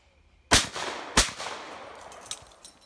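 Two sharp shotgun blasts about half a second apart at an outdoor clay shooting stand, each loud close crack trailing into a long rolling echo, with a faint third report later.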